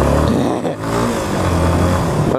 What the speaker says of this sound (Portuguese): Primeira aceleradinha da Rochelle do ano.